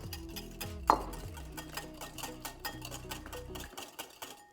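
Salad dressing with mashed garlic whisked together in a bowl, a steady quick rhythm of metallic clicks and scrapes, close and fairly soft, with a brief louder knock near the start.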